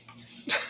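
A single sharp sneeze bursts out near the mic, loud and close, after a moment of quiet room tone with a faint breath before it.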